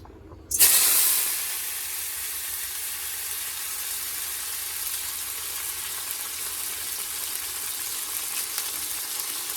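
Kuchi pieces hit hot oil in a kadai, a wok on a home stove, with a sudden loud sizzling burst that settles into a steady, close hiss of frying that runs without talk.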